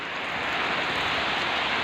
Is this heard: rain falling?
yes